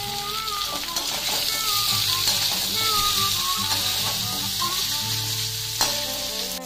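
Phara dumplings fry in a pan, a steady, close sizzle with light stirring scrapes and a brief clatter near the end, while faint background tones and sounds drift underneath.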